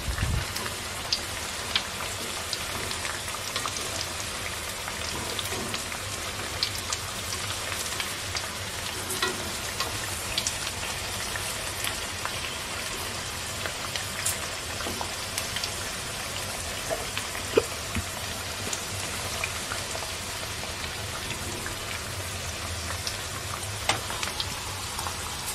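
Tempeh fries in hot oil in a pan during home cooking, a steady dense sizzle and crackle that runs unbroken throughout, with small pops and occasional stirring clinks and no talking.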